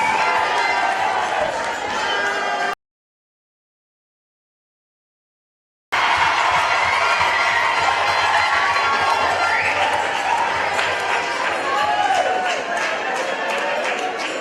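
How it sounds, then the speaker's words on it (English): A crowd at a community forum in Nevis applauds and cheers loudly, with dense clapping and shouts that cut out abruptly to silence for a few seconds, then resume just as strongly. "Give him a round of applause."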